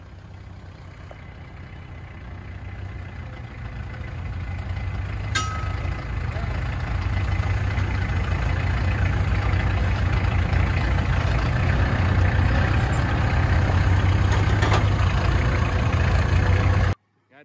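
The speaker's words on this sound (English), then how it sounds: "I need to push with the tractor, so hold on." A tractor engine pushes a fifth-wheel trailer, giving a steady, loud low diesel drone that builds slightly a few seconds in and then holds constant before cutting off abruptly at the end.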